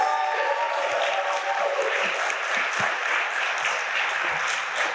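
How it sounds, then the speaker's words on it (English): A graduation ceremony audience applauds the graduates with dense, loud, sustained clapping from a large crowd that fills the whole stretch evenly, with no one speaking over it. "Let's have one more round of applause for our DC graduates."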